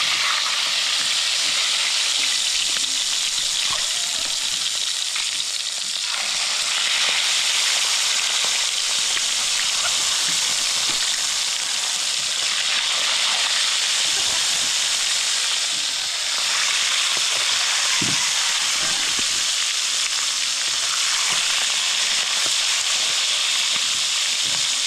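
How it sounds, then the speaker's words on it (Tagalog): Fish frying in hot oil gives a steady, close sizzle and hiss that runs unbroken throughout, with occasional crackles and a soft stirring clatter, and no talking. "ilalagay na natin yung isda na ipiprito"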